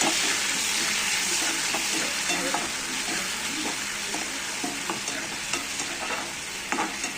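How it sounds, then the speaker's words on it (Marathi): Chopped tomatoes sautéing in a pan for a Maharashtrian home-style thali, a continuous near sizzle broken by regular spoon stirs and scrapes against the pan, with no voices. "आता त्यात हे आपण चिरून घेतलेले टमाटे घालू. त्याला पण चांगलं परतून घेऊ."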